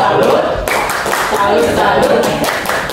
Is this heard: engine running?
no